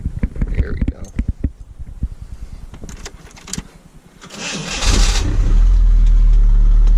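A 1995 Chevrolet S10 truck under restoration cranks with a rapid ticking starter, then fires and catches into a loud, steady idle close by, with a voice speaking over the early cranking.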